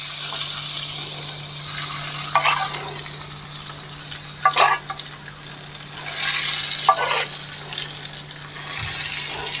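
Red chilli and Kashmiri red chilli sizzle in hot tempering fat for a dal fry tadka, giving a steady frying hiss broken by a few sharper crackling spurts, heard up close with no voices.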